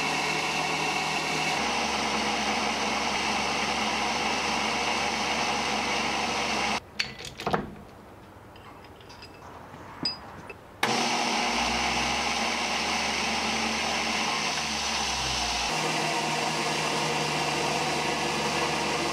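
A homemade bolt-making machine for shelf bolts runs with a steady mechanical drone, cuts out for a few seconds midway, then starts up again and carries on evenly.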